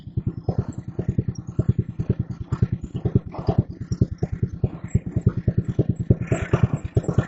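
An early 1970s Mowett Mustang riding lawn mower chugs at low speed, its small engine thumping in a fast, even rhythm, close and steady throughout.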